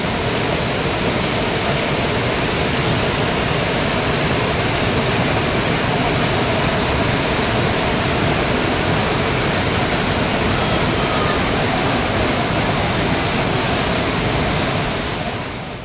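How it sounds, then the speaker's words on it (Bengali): Kanchenjunga Falls near Pelling roars steadily and loudly at close range, a dense unbroken rush of falling water with no voices over it. "এটি পেলিংয়ের অন্যতম আকর্ষণীয় স্থান। কাঞ্চনজঙ্ঘা ওয়াটারফলস।"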